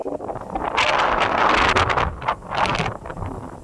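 Strong wind gusts buffet the microphone over a rice paddy, a loud rushing roar that swells and dips across the few seconds, with no speech.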